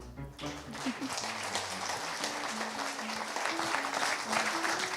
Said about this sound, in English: Please, a round of applause, please welcome up His Royal Highness Prince Abdullah